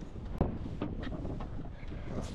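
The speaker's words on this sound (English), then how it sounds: "It's really, really windy out here." Steady roaring wind buffets the microphone, a broad rushing noise with gusty swells and a sharp thump near the start, no voices.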